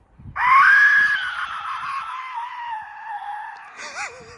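An Aztec death whistle blown as hard as possible outdoors over a field lets out one loud, piercing, human-like scream. The shriek holds for several seconds, then wavers and fades, with a brief warble at the end.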